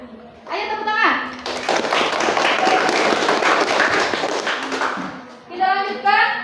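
A classroom of children bursts into applause, a dense, loud burst of clapping lasting several seconds, with young voices speaking briefly before and after it.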